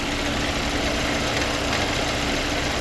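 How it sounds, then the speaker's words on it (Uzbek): A Chevrolet Cobalt engine idling with its repaired AC compressor engaged, a steady, even mechanical hum and rumble heard close, no talking. "Kompressorni qo'shib turibdi, motorda ovoz yo'q."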